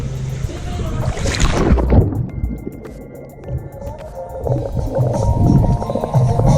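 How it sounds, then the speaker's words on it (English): Muffled sound carries through underwater speakers in a heated resort swimming pool, starting with a splashy plunge and then steady faint tones and pulsing music heard below the surface. "It has speakers in the water."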